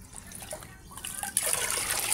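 Liquid fertilizer poured by the mugful into a ten-litre bucket of water: a light trickle gives way to a steady, splashing pour close by.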